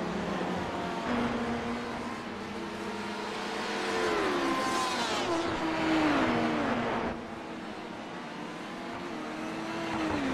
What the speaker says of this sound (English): The LMP1 cars make their way through and can push on